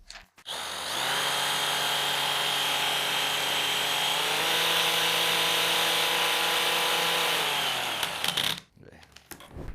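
An electric drill whirs steadily at high speed for several seconds, loud and close, then winds down and stops.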